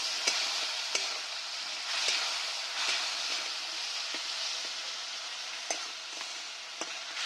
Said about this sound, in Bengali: এবার মশলাটা ভালো করে কষে নিচ্ছি।